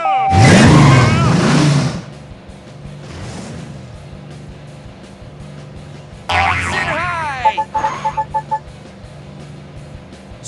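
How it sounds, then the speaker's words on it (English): Cartoon car in the Blaze and the Monster Machines racing game bouncing over spring pads, a loud springy boing followed by later twangs and rapid pops, with a child-friendly voice talking between them. "Drive over spring pads to get launched into the air and collect even more hubcaps."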